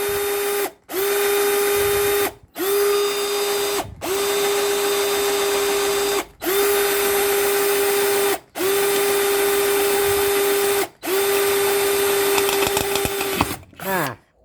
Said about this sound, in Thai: ขนาดรอบต่ำของเขาก็ยังสามารถ เจาะเหล็กได้นะครับ